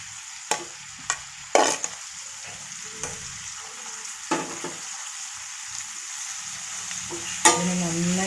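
Sliced brinjal, tomato and other vegetables are stirred and mixed in a pan for tarakari palya, with scattered spatula knocks over a soft continuous sizzle and a sharper clatter near the end.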